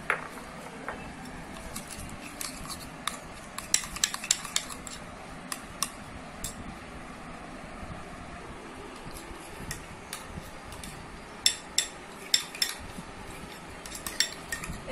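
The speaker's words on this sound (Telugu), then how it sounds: "దీన్ని బాగా మిక్స్ చేసుకోవాలి." A spoon stirs a curd face pack in a small bowl, producing faint, scattered clicks and scrapes against the bowl's sides, irregular and close, over a quiet background hiss.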